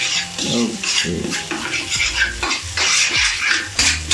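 Wheat noodles are stirred with egg and chicken in a pan, producing repeated close scraping and clanking of utensil on metal over a light sizzle, in uneven strokes without talk.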